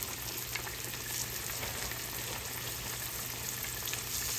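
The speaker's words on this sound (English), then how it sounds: "frying squash" Yellow squash sizzles and crackles steadily in a hot frying pan, a constant frying hiss with no voices.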